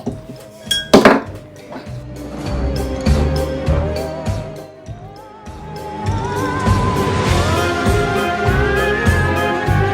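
Batter for pumpkin spice waffles is mixed in a bowl with a utensil, giving close clinks and scraping taps against the dish, with a few sharp knocks early on and a steady rhythmic stirring after.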